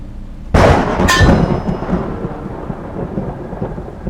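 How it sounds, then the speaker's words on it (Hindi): A sharp crack of thunder bursts in, followed by a second crash and a rolling rumble over steady heavy rain, loud and close. "भारी बारिश की वजह से खिड़की पर तेजी से पानी पड़ रहा था"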